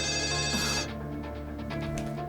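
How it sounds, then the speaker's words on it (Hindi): A telephone rings with a bright electronic trill, a short burst that cuts off, followed by fainter tones over a low background hum. "इस फोन को भी अभी बजना था।"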